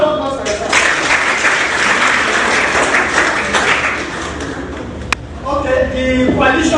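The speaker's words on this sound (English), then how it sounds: "A round of applause for yourselves." Crowd applause for attendees at an AAC presidential primary political event in Abuja, sustained loud clapping with a sharp knock near the end and a voice resuming as it fades.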